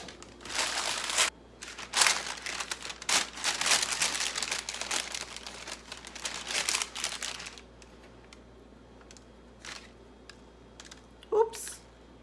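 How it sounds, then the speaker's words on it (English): Parchment paper is crinkled and pressed onto a baking pan for homemade cinnamon rolls, giving close, bursty crackling rustles for several seconds, then a few sparse crinkles and a quieter stretch. "I put some parchment paper on my"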